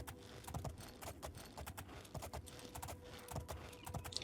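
A ridden horse's hooves clip-clop in the fantasy game Oblivion, quick regular beats of a brisk gait, fairly quiet, with no talking.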